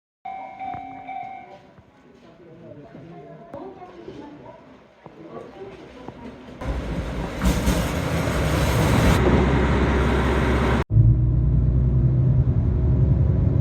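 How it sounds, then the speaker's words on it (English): Ride on a train bound for Hakodate, Japan: a low, steady rolling rumble builds and grows loud partway through, then holds, with brief talk and cabin noise early on. "getting the train now to Hakodate"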